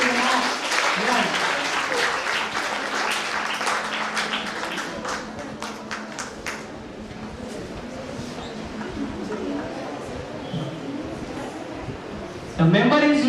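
Audience applause at an inter-collegiate English proficiency contest, a steady spread of many hands clapping that gradually thins over several seconds before a voice briefly cuts in at the end.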